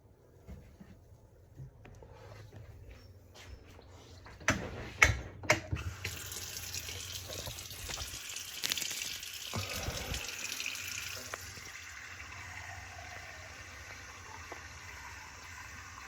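Water runs from a tap in fits and starts, with clicks and handling knocks before a steady gushing stream that settles into a softer flow, fairly close and quiet.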